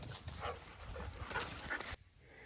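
Dogs named Skunk and Brandon, out walking during training, give soft whimpers and panting breaths over a steady rustling background. The sounds go on for about two seconds, then stop abruptly.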